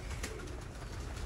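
Golden pigeons of the Mian Nazir bloodline on a rooftop give soft, low continuous coos with a brief sharper sound near the start.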